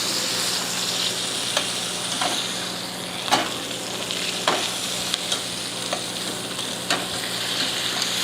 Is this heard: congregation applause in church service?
no